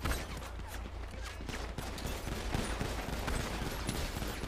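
Gunfire in the GTA V video game, a dense rapid volley of shots crackling continuously under a broad noisy wash, fairly loud and sustained without pause.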